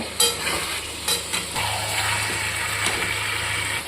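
Chicken is stirred continuously in a pan over a high gas flame, producing a close, steady frying hiss with scraping strokes of the spoon and a low burner rumble beneath, with no voices.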